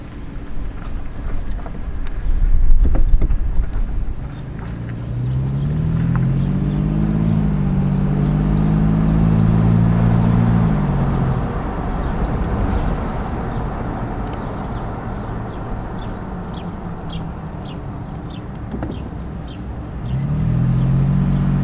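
A fifth-generation Toyota TRD 4Runner fitted with a Borla S-Type cat-back exhaust rumbles along at low speed, its engine note rising and falling under steady wind buffeting for about twenty seconds with no talking.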